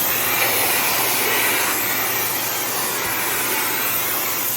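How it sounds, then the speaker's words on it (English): A vacuum cleaner sucks up dust and grime on a dirty workbench, a loud, continuous broadband roar that holds steady throughout with no speech. "I have to vacuum all this"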